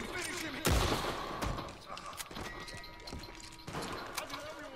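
Gunfire in Red Dead Redemption 2 Online, several sharp shots at irregular intervals with a big crack early on, mixed with other game sounds.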